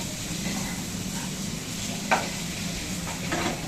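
Peanut, potato and green chili mixture being stirred in a pan, a soft steady sizzle with scraping stir sounds and a sharper clink of the spoon midway.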